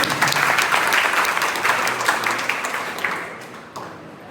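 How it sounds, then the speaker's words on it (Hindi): An audience at a yoga instructors' honor ceremony claps loudly for themselves, a thick burst of many hands that stays strong, then thins and fades away near the end, with no voices. "तो मैं चाहता हूं एक बार जोरदार ताली अपने लिए बजा दीजिए।"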